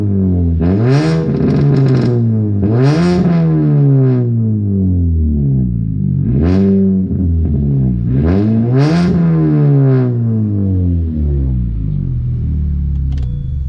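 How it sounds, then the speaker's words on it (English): A supercharged 2003 Mini Cooper S with a straight-pipe cat-back exhaust revs loudly up close, rising and falling in four or five sweeping pulls over a steady idle rumble, with crackling pops on the overrun. "it's straight pipe from the cat back, and it still pops pretty decent"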